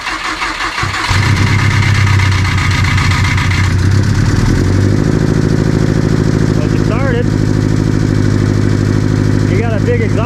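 Stock-engine Subaru STI starting and then idling with a big exhaust leak at the downpipe, a loud, raspy, rough rumble close by after the crank, with people talking over it.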